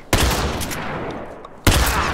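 Bursts of heavy gunfire crash in The Last of Us Factions multiplayer match, two loud broadband volleys separated by a noisy lull, close and harsh.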